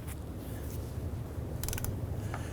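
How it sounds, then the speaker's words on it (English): A ratchet wrench torquing the driveshaft flange bolts on a 2002-2007 Jeep Liberty, quiet close mechanical clicking and creaking with a brief burst of rapid ratchet clicks partway through, no talking. "Now we're going to go around and we're going to torque all of these down to 22 foot-pounds."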